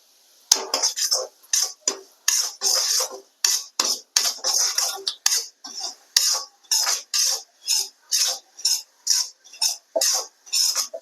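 Semolina being poured and stirred as it roasts in a pan, with a spoon scraping the metal in a fast, regular rhythm of short rasping strokes, loud and close, with no talking.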